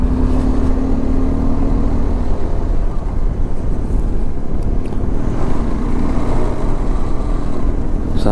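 Two Toyota Fortuner SUVs driven hard on tough, rough mountain terrain in Ladakh, with a loud, continuous engine roar and rumble that rises and falls as they push along, close by and steady throughout.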